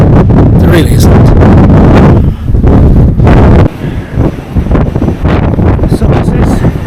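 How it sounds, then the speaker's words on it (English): Heavy gusts buffet the microphone on a mountain skywalk platform at Dalsnibba above Geirangerfjord, in loud, roaring bursts that briefly drop off and return. "it's windy."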